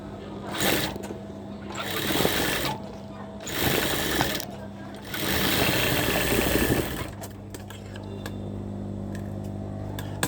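A sewing machine stitches the hem along a fabric edge in several close, steady bursts of rapid whirring, each separated by short pauses.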